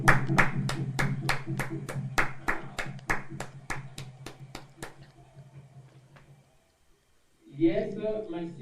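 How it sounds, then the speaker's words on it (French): Church congregation clapping in unison for the Holy Spirit, a steady run of sharp claps with voices over them that slows and fades out, followed by a short silence and then renewed voices. "Acclamons pour le Saint-Esprit"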